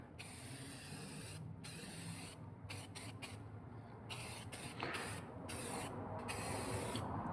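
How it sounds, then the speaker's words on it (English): Spray primer hisses in a steady, continuous stream as it is dusted onto a girl's bike frame from about a foot away, with brief pauses between passes and no talk. "for the first coat of primer, I'm staying about 12 to 14 inches away from the frame itself, and we're just going to dust her in"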